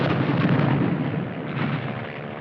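Artillery barrage called in by a spotter in a Piper Cub observation plane, a war film battle effect: a dense, continuous rumble of distant shelling rolling on without a break, no voices over it.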